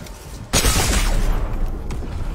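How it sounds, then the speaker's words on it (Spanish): A single loud shotgun blast in a video game, one sudden heavy boom with a long rumbling, reverberant tail that fills the rest of the moment. "Esa escopeta es una mierda porque tú le tiraste para dar y tiró para el cielo"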